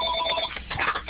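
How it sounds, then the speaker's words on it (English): A telephone rings in a nearby room, a steady electronic trill lasting about a second with no one speaking over it. "that phone you can hear is my end"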